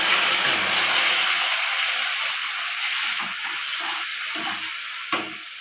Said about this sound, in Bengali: টমেটো হালকা ভেজে এসছে